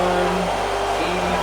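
Radiator cooling fans on a turbo Honda Civic run in a steady broadband whoosh with a low hum, close and constant, dipping slightly in tone near the end.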